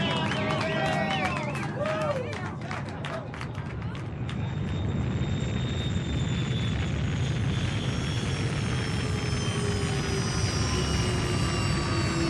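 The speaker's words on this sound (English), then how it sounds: "Those are rocket engines. Look, I remember the sound of it. That's the ship." Spaceship rocket engines as a radio drama sound effect: a loud, continuous roaring rumble with a rising whine, starting under an overlapping voice and then sustained alone.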